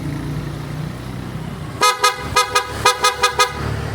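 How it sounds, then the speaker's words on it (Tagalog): Quiet idling noise, then a Yamaha NMAX V3 motor scooter's rewired horn beeps in a quick series of short, loud honks, roughly eight in a row. "Dapat pagka naka-ignition on lang, bubusin na siya ng maayos."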